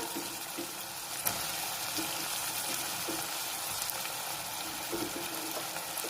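Brinjal and broad beans sauté in a pan for an eight-vegetable kootu, a steady moderate sizzle with occasional soft stirring clicks and no voices.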